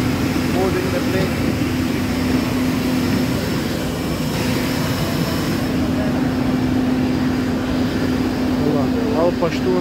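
Inside the cabin of an old Afghan airliner during boarding, a steady loud drone of air conditioning and idling engine hums throughout, with voices chattering under it.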